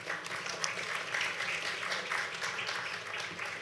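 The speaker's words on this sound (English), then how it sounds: "So if you give a round of applause for Maggie and our panelists." Audience applause after a panel on open data at a geospatial conference, a steady broadband wash of clapping from a large room lasting throughout, fairly even in loudness with no talk over it.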